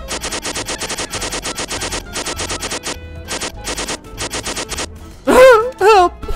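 A Roblox machine gun fires in rapid, evenly paced bursts of clipped, synthetic-sounding shots, close and loud, broken by short pauses, before a voice cries out near the end.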